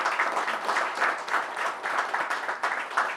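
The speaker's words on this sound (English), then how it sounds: "Let's give them a big round of applause" An audience at a green transport session on EVs and biofuels gives panelists a round of applause, steady dense clapping that holds at an even level throughout.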